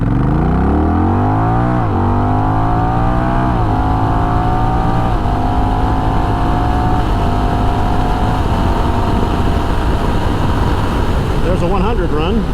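A Honda Rebel 1100 motorcycle accelerates hard at full throttle in traffic, its loud engine note climbing through several gear changes and then holding a high, strained drone with wind rush, heard close up from the rider's position.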